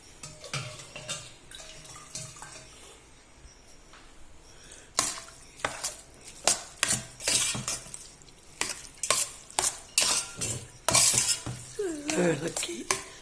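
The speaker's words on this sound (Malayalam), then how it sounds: "ഇളക്കി മിക്സ് ചെയ്യാം." Cooked rice being mixed into salted curd in a pot off the heat, rhythmic spoon clinks and scrapes against the metal, sparse at first, then a busy run of regular strokes, close and clear.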